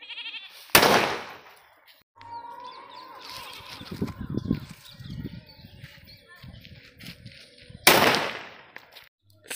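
A large 5-inch firecracker goes off during a cracker test, giving two loud, sharp blasts about seven seconds apart, with quieter talk and bleating-like sounds in between.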